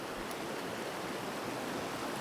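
A river in Palin, Arunachal rushes steadily in broadband water noise, a constant close wash with no pauses and no voices.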